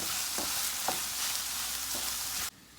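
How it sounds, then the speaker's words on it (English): Rice being stirred together with a green-topped mixture in a pan on a just-turned-off stove, a steady close scraping and faint sizzle with a few soft spoon knocks, cutting off abruptly near the end. "we're gonna mix this into the rice."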